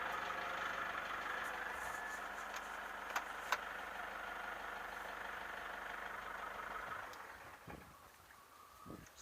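A car engine idles at home during a radiator flush, holding a steady, low hum for several seconds before it is switched off and fades out, leaving a few faint knocks.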